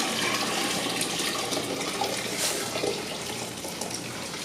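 Home-brewed beer wort being strained, a steady gushing pour of liquid close by that fades slightly toward the end, with no talk.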